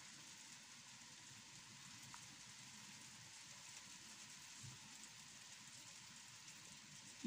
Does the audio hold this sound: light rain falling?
yes